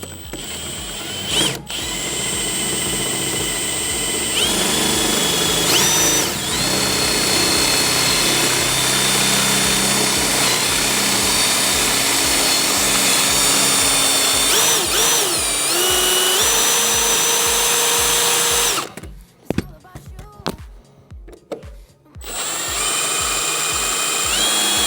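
A power drill bores into a corroded rear shock absorber bolt on a Land Rover Freelander 2, whining loudly and continuously with shifting pitch, briefly stuttering and cutting out before spinning up again.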